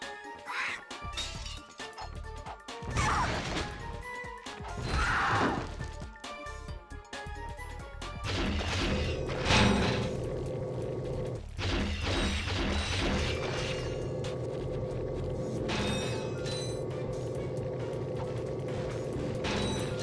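Bomb glove explosions from the Ratchet and Clank video game, a series of sharp crashing bursts with mechanical clanks in the first half, then a steady, dense layer of game effects and music.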